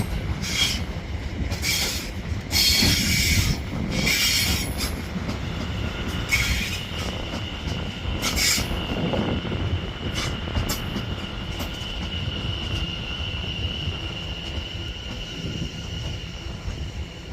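A British Rail Class 701 electric train passes through Clapham Junction station, a steady rumbling roll with wheel clatter and squeal, plus a sustained high whine from the train. It is close and fairly loud, and it eases slightly toward the end.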